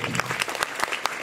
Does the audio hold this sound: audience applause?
yes